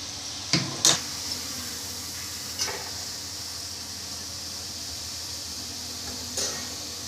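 Chakli (mullu thenkuzhal) dough pressed straight into hot oil and frying: a steady, soft hiss of sizzling runs throughout, broken by a few sharp metallic clinks from a pan or utensil.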